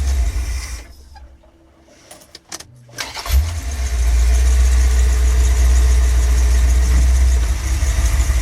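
A car engine fitted with a used Edelbrock 650 carburetor winds down to quiet, then cranks with a few brief stutters, catches, and settles into a loud, steady, rumbling idle close by.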